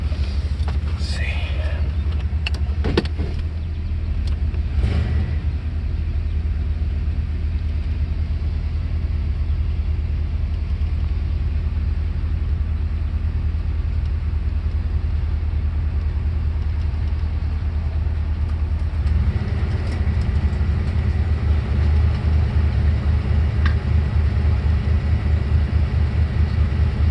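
A 1996 Jeep Grand Cherokee engine idling steadily after cranking, with a low continuous rumble that rises slightly near the end, close by, with someone talking over it at times.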